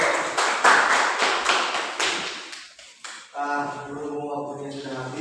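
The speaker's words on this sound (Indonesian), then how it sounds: "Terima kasih tepuk tangan buat itu." Classroom students clap during an Islamic studies lesson, a brief burst of close, uneven hand claps lasting about three seconds before it gives way to a voice.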